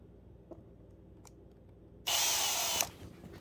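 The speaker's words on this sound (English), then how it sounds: "Let's drill some holes for lead." A power drill bores holes into a homemade fishing lure to hold lead weight, a short loud whine bursting in after faint clicks and cutting off within a second.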